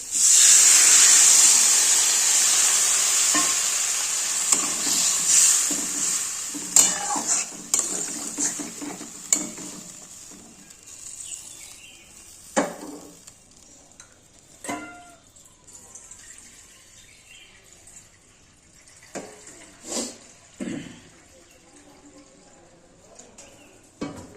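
Water hits a hot pan of turmeric-coated food in a home kitchen, giving a loud sizzling hiss that slowly dies down, followed by scattered clinks and stirring noises from the pot.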